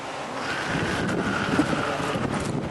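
Strong wind buffets and roars steadily across the microphone in Skagway, Alaska, a continuous rough gusty rush with no pauses.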